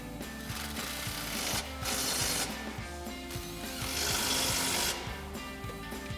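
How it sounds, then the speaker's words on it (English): An impact wrench with a 13 mm socket and extension tightens exhaust bolts while a Mustang GT X-pipe is fitted, producing a rattling mechanical whir in a few short surges over a low steady background, close by and moderately loud. "grab our 13 mil socket and extension on our impact and tighten these down"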